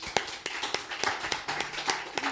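Church congregation clapping in praise during a Spanish-language sermon, a sparse, uneven run of separate hand claps, moderately close, with no voices over it.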